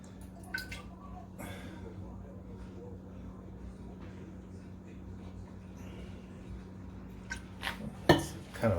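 A whiskey mixture is stirred in a container, giving faint sloshing and scattered clinks over a steady electrical hum, with a few louder knocks near the end.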